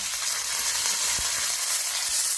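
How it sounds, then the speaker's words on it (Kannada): Mustard seeds splutter in hot oil, giving a dense, steady hiss with faint crackles throughout, close and even in level, with no voices. "ಸಾಸಿವೆ ಚಟಪಟ ಅಂತ ಇದೆ."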